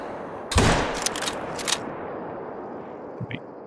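A hunting rifle shot in theHunter: Call of the Wild at Mississippi Acres, one sharp loud crack followed by echoing rolls across the landscape, then a faint distant report near the end.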